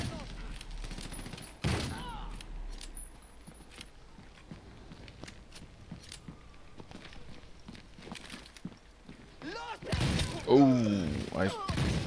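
Gunfire crackles through a session of the video game Army of Two: The Devil's Cartel, with sharp bursts and rapid volleys up close, scattered single shots between them, and a loud cluster of shots near the end.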